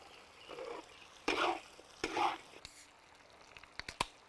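Duck stir-frying in a wok with doubanjiang bean paste, green Sichuan peppercorns and purple ginger, heard as bursts of sizzling and scraping stirs, two strong surges then lighter clicks and taps.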